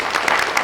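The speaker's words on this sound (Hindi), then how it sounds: "इसके लिए एक बार और ताली आप लोग बजाइए।" An audience claps in brief applause at a comedy acting show, a dense patter of hands heard close and fairly loud with no talk over it.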